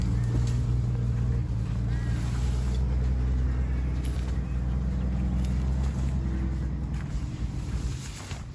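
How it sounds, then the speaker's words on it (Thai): A truck rumbles past on a road, a loud, steady low-frequency engine drone that stays strong throughout and eases slightly at the end, with faint background noise. "ได้ยินเสียงรถบรรทุกมาก็จะ"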